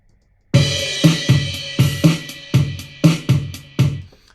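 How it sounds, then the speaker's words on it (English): A programmed drum pattern plays alone, kick and snare hits in a steady groove with bright open hi-hat sizzle ringing between beats. "I'm going to make that an open hi-hat."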